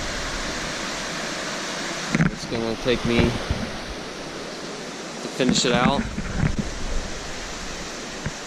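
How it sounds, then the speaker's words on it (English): A river flows in a steady broadband rush as a hiker crosses it in the Great Smoky Mountains, with someone talking briefly in two short bursts over the water. "I'm crossing the river."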